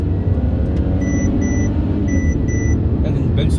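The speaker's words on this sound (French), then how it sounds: "Elle a une belle sonorité. Ouais, 4 cylindres." A Mercedes C300 4matic four-cylinder engine runs as a steady, loud low rumble from start to finish, with a few short electronic beeps partway through and faint voices in the background.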